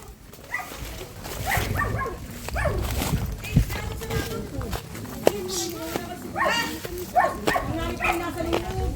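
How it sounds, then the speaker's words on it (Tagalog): Dogs bark and whimper now and then in the Philippine countryside near a stream, amid outdoor chatter and children's voices, the barking mid-distance and partly buried under talk. "May aso."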